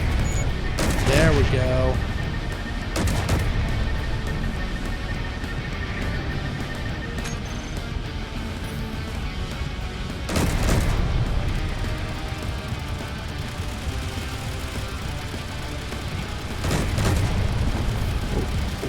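Ship-mounted guns fire at drones in Space Engineers survival, steady rattling gunfire punctuated by several heavy booming impacts, with a voice speaking briefly over it.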